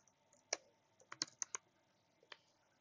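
Keys on a computer keyboard tap out Python code in a handful of sharp, separate clicks with short pauses between them, quiet and close in an otherwise silent room.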